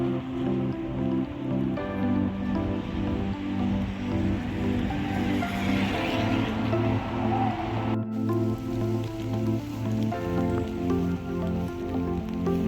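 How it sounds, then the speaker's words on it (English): Steady light rain patters throughout in York, UK, at Christmas time, a soft continuous hiss of drops with a low tonal drone running underneath. "It was slightly drizzling"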